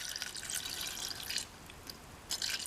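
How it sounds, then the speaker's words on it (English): Water is poured into a container holding coins and rocks, giving a continuous trickling and splashing that is fairly faint and close, with a brief lull partway through. No voices. "I've got some water here. I'll put just enough in to cover the coins and the rocks."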